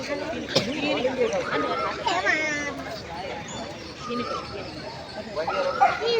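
Husky dog in a busy park, giving short yips and whimpering cries amid the chatter of a crowd, moderately close and fairly quiet.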